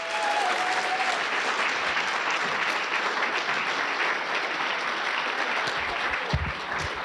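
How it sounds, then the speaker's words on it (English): Loud, continuous clapping from a comedy-club crowd fills the whole stretch, even and sustained without letup. "Big round of applause, Sargon Hunter."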